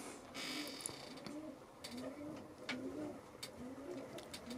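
Several pigeons in a loft coo in soft, repeated rolling calls, fairly close, with a steady rustle and faint background noise throughout.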